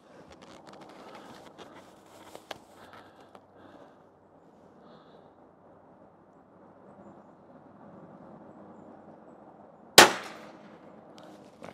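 A single sharp, loud rifle shot cracks out near the end during a test of a Blackhound Evolve 3-18x50 scope, following a long stretch of quiet outdoor hiss and faint rustling.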